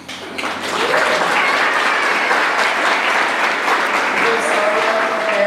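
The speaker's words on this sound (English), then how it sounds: "We'll give them a round of applause, okay?" Applause rises quickly and then holds loud and steady as an audience at a Chamber of Commerce banquet claps for nominees standing to be recognized. Faint tonal traces sit under the sustained clapping.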